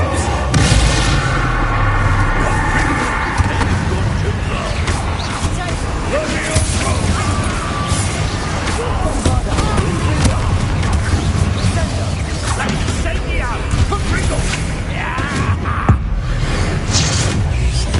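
Bombarda blasting spells in Hogwarts Legacy, loud booming impacts layered over a dense, constant wash of battle noise, music and voices throughout.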